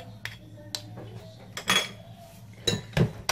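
A spoon clinks against a bowl while baking soda dissolved in water is stirred into brownie cookie batter, giving scattered light metallic taps and scraping strokes at close range, with no talking.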